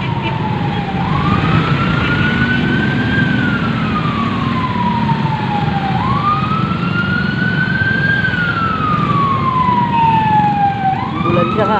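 An ambulance siren wails, sweeping slowly up and down in long repeating cycles, loud and close over a low engine rumble.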